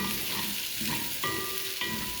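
Food frying and sizzling in a pan with dried lemon added, stirred with a few scraping strokes over a steady close hiss.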